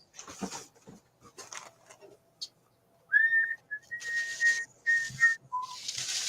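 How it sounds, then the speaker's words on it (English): Someone whistles in short, clear tones indoors, a few brief whistled notes between quiet gaps and soft background noise. "Oh, we better not whistle."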